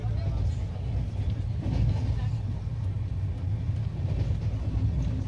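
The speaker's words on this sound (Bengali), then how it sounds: "আমাদের ট্রেন 12278 শতাব্দী এক্সপ্রেস পুরী হাওড়া এখন এসে পৌঁছালো হচ্ছে ভদ্রকে" The 12278 Puri–Howrah Shatabdi Express runs along in Odisha, heard from inside as a steady, loud low rumble with continuous rattling and no break.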